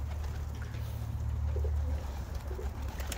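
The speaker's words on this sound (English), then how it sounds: "these are the birds of Sunny." Racing pigeons coo in low, soft murmurs over a steady background hum, the calls blending into a continuous warbling drone.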